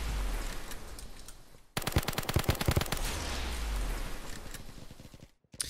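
Rapid automatic SCAR rifle fire in the first-person shooter Kirka.io, a loud sustained burst of closely spaced shots over game ambience, then continuous game noise that cuts out briefly near the end.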